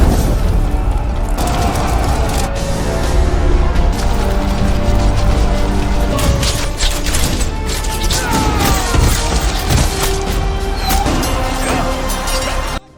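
Heavy booming blasts and crashes of cannon fire roll on in a dense, loud barrage, with rumbling and clattering debris throughout.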